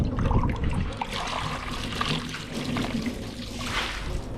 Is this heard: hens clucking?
no